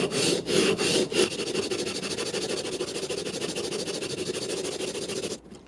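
A Japanese chisel is honed on a coarse water stone, giving a steady wet rasping scrape of even strokes. It runs close and continuous for about five seconds, then cuts off.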